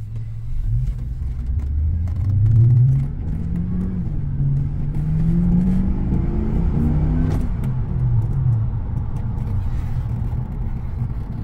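A 2004 Impulse Blue Pontiac GTO's 5.7 liter LS1 V8 with a custom-grind cam revs at roughly partial throttle, the deep rumble swelling and falling in a few blips, close and loud with no talk.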